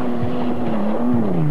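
A 1996 XR6 Falcon rally car labours uphill at full power, its engine holding a steady low drone that sags and strains through a brief, close, loud burst.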